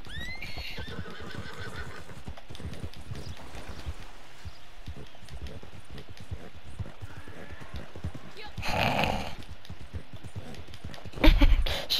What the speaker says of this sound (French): J'ai juste entendu ton cheval.